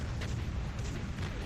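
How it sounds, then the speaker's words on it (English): Dense, continuous rumble of repeated explosions from the Duke Nukem: Manhattan Project video game, with bursts layered over a steady low roar throughout. "Right, a lot of explosions now."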